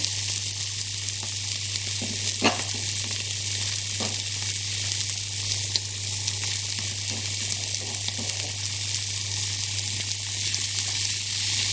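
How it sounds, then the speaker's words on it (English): Sardine bhorta made from tinned sardines with frozen coriander, sizzling steadily in a frying pan while being stirred, with a constant frying hiss and occasional soft scrapes of the spoon, no talking. "So once the fresh coriander is added to the dish, we literally need to stir this for another minute or two"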